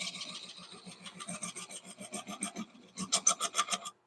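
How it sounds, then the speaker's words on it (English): A small gouge cuts into wood spinning on a lathe, giving a dry, rhythmic scraping and rasping in quick repeated strokes, close and fairly quiet, growing sharper toward the end before stopping. "I'm going to try this little gouge here. See if I can get a little bit better cut on that."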